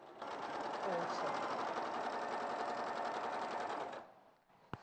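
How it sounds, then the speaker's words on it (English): Sewing machine stitching quilting fabric strips corner to corner, a steady close whirring run of rapid needle strokes that stops abruptly, followed by a small click. "And then I'm going to sew corner to corner."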